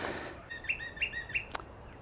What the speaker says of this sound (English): There's those birds again.